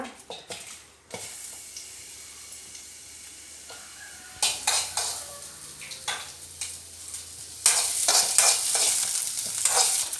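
Masala with onion and tomato fries in a pan for a pomfret curry, a low sizzle broken by frequent scraping stirs and clinks of a spoon against metal, growing louder and busier toward the end.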